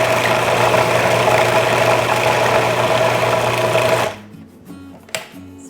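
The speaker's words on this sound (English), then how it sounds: "we're just gonna let this blend together in the food processor" A food processor whirs steadily at close range while blending cheese ball ingredients with bourbon and paprika, running loud and even for about four seconds before cutting off, followed by a few faint knocks.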